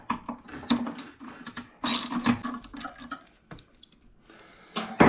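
A ratchet wrench fitted with an extension loosens a nut on a Daymak Pithog Max 72V ebike during battery pack removal, giving close, irregular bursts of metallic clicking and clatter with brief pauses.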